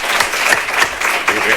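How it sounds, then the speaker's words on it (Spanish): Brief burst of audience clapping after a talk at an educational psychology lecture series, a spread of hand claps filling the room at steady loudness. "Le damos un aplauso."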